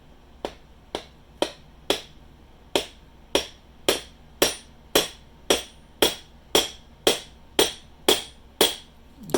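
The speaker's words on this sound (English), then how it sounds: "And then using a hammer, the smaller the hammer the better." A small hammer taps a toy ride-on car's upgrade motor part down, about eighteen crisp, close metallic taps in a steady rhythm with a brief ring after each strike.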